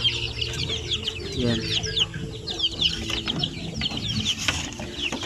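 Chickens and many chicks cluck and cheep on a backyard farm, a busy chorus of high chirps over lower clucks, with a brief spoken word near the start.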